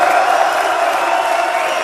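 A large crowd at a French political rally for the UPR party applauds and cheers loudly, a dense, continuous roar of clapping and shouts.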